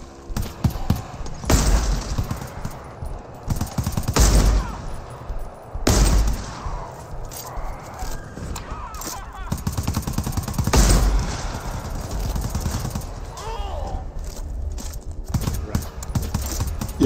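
Gunfire in the shooter game GTFO comes as several loud, sharp bursts spaced a few seconds apart, with rattling impacts and game effects between them and voices talking over the action.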